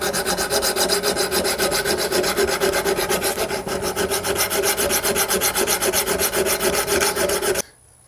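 A hand file rasps steadily along the rusty edge of a garden tool, fast even strokes close up and loud for about seven and a half seconds before stopping abruptly, no voices.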